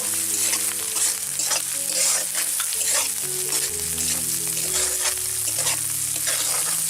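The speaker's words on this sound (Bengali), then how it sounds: "মশলাটা আমরা ভালো করে কষিয়ে নেব" Ground spice paste sizzling and being stirred in hot oil for a raw banana kofta curry, a steady close frying hiss with scraping stirs, while someone talks over it.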